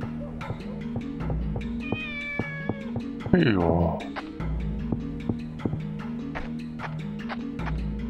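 Cat in the Shenmue game giving a loud, close meow that rises and falls, set against a rhythmic throbbing pulse of ambient music with short clicks.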